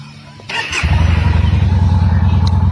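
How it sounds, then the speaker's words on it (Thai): A Yamaha Bolt R-950 motorcycle is started up close. A brief starter crank catches, then the engine settles into a loud, throbbing, rapid idle. "เดี๋ยวสตาร์ทกันให้ฟังกันแล้วกัน"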